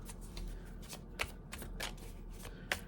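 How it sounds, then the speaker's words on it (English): Playing cards are shuffled by hand close up, with a run of soft riffling flutters broken by a couple of sharp snapping bursts. There is no talking. "I'm just shuffling."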